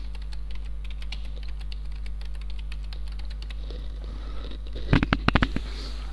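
Light, rapid keystrokes on a computer keyboard patter steadily over a low hum, ending with a brief burst of louder, sharper key clicks near the end.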